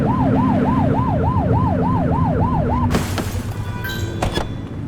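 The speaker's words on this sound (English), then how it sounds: "Get behind them and blip the siren to make them pull over." Police car siren in the video game The Precinct, wailing in a steady rising-and-falling cycle for about three seconds and then cutting off, leaving engine and street noise with a few sharp bursts.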